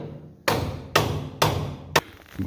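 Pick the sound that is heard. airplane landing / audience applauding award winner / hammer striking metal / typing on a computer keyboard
hammer striking metal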